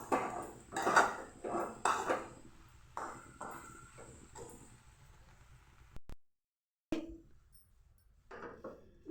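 Puffed rice tempering tossed in a pan at home, giving a series of sharp metallic clanks and scrapes of a spoon against the pan, loud and irregular, with a brief silent gap before more stirring knocks.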